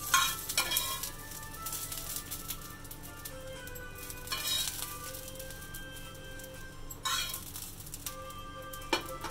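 A hot tempering of curry leaves and mustard seeds sizzles into coconut chutney with yogurt, giving several sharp crackling bursts between softer sputtering. Faint clinks of a utensil are also heard.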